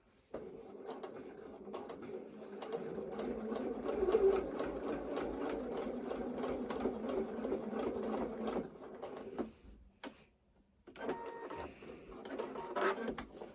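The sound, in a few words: sewing machine stitching a line on shorts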